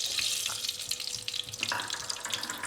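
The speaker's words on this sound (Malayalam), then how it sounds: "തിളച്ച് വന്നിട്ടുണ്ട്. ഉലുവ ഇട്ട് കൊടുക്കുകയാണ്." Fenugreek seeds sizzle in hot oil in a non-stick pan while fish curry is prepared, a close, crackling hiss with scattered pops, with no talk over it.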